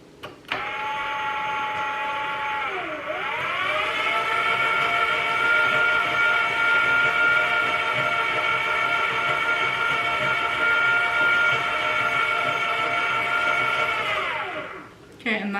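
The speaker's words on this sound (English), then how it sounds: "I'm just gonna mix this a little bit with the mixer here so it gets incorporated." Electric mixer running through bread dough ingredients, a loud, steady motor whine with a brief dip in pitch as it loads early on, then holding constant for about twelve seconds before spinning down and stopping.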